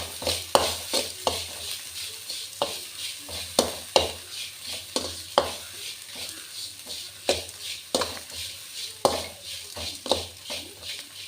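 Spices frying in a pan in a home kitchen, a soft continuous sizzle punctuated by repeated sharp stirring taps and scrapes of a utensil against the pan, with no talking.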